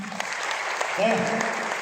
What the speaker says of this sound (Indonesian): Boleh minta tepuk tangan saya?